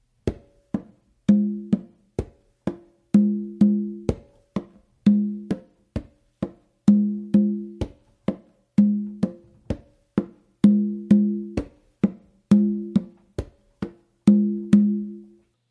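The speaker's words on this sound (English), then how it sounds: "what the tumba is doing is this." Tumba conga drum plays a samba rhythm alone, close and clear, with steady repeating strokes in a bouncing pattern of sharp slaps and ringing open tones.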